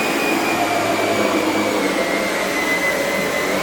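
A SEBO E3 Premium barrel vacuum cleaner runs steadily nearby, its motor giving a continuous whining whoosh with no pauses.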